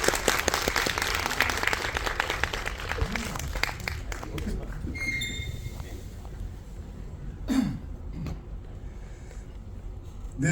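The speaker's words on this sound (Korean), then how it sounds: "큰 박수로 맞이하겠습니다." Audience at a Korean film screening Q&A applauding as two film directors are welcomed on stage, dense clapping that gradually thins out, with a few coughs and faint murmurs near the end.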